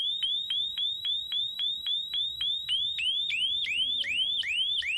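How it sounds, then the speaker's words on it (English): A homemade adjustable electronic siren wails in rapid repeating rising sweeps that quicken midway, then slow into longer whoops, loud and alone with no voices. "And there you have it, an adjustable siren."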